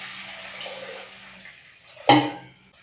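Water pours into a pot with a soft, steady splash that builds to a brief louder gush near the end before trailing off.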